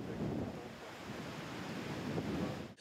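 Stormy weather during prolonged heavy rain and hurricane-force gusts in Lower Austria, a steady loud broadband roar of wind and rain that continues almost unbroken throughout, with a brief dip near the end.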